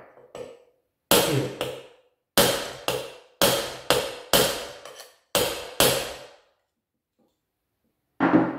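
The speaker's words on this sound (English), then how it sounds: "And just to hammer." A hammer strikes a metal adjustment tool pressing on the sensor plate of a Mercedes KE-Jetronic fuel injection system, about nine sharp, close taps in an irregular rhythm, some in quick pairs, then a pause before one last tap; a brief spoken word comes near the end.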